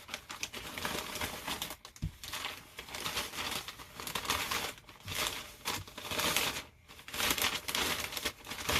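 A large plastic shipping bag folded over an item being packed, a busy run of crinkling and rustling handling noise, close and fairly loud, with brief pauses and no talking.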